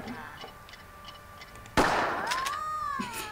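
A shot and explosion in the video game Worms 4 Mayhem: a sudden loud burst cuts through quieter game sounds, followed by a trailing rumble and a rising tone.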